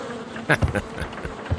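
Bees buzz in the Sherlock Holmes Crimes and Punishments video game, a brief, hazy insect drone that swells for a moment and then fades.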